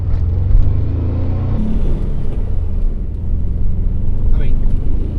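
A 1978 VW Super Beetle's engine runs steadily on a test drive, a low, continuous rumble with a slight rise in revs partway through, loud and close throughout.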